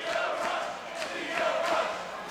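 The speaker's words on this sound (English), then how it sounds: "The crowd wants Leo up." A wrestling crowd at a CZW hardcore match roars and cheers for Leo Rush, a dense, steady wash of voices with brief swells, filling the arena without any commentary over it.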